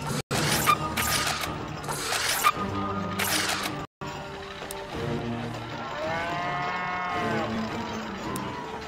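Cows mooing in South Park: The Stick of Truth, three Nazi cow minions in a fight; drawn-out bellowing moos rise and fall near the end over a dense game soundtrack of music, hits and clanks.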